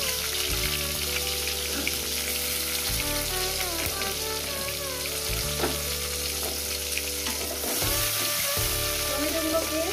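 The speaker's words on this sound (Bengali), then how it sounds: "টমেটোগুলোকে মিনিট আমি ভেজে নেব" Tomatoes fry in hot oil seasoned with black cumin, a dense, constant close sizzle and crackle with occasional stirring scrapes and no voices.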